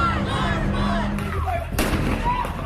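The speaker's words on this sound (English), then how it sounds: "police in riot gear fired what appeared to be tear gas" Riot police fire tear gas at protesters in a street demonstration, with a couple of sharp bangs cutting through loud, continuous crowd noise.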